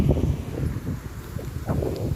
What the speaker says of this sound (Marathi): वारे एवढे दार उघडले की परत आणि वाऱ्यामुळं दार झाकलं जातं आहे